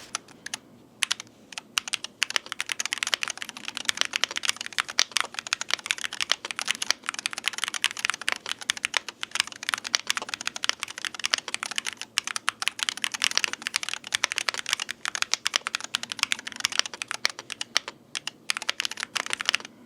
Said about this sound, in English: So sound of this keyboard is pretty standard for mechanical keyboard with magnetic switches.